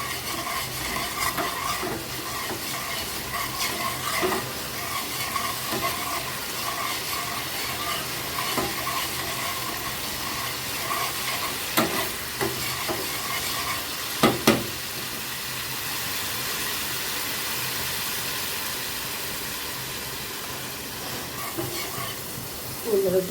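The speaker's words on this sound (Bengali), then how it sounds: "কষিয়ে নেব" Spices with turmeric and ginger frying and being stirred in a pan for Bengali potol sundori: a constant close sizzle with spatula scrapes, and a couple of sharper clinks partway through.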